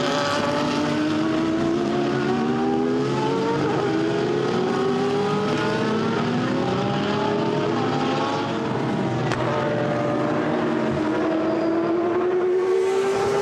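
GT race cars at Misano stream past on track, loud overlapping engine notes rising and falling in pitch as they pass one after another, with no pause between cars.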